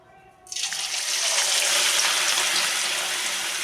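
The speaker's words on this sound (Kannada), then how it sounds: "ಇವಾಗ ಫಿಶನ್ನು ಫ್ರೈ ಮಾಡಿ ತೋರಿಸ್ತೀನಿ ನೋಡ್ರಿ." Fish lowered into hot cooking oil sets off a sudden sizzle after a short quiet moment, swelling into a loud, steady crackling hiss that holds to the end.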